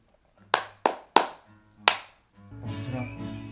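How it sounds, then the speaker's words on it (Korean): Four sharp, separate hand claps ring out close by with uneven gaps, followed by a stretch of soft rustling and handling noise. "박수 한번 쳐라."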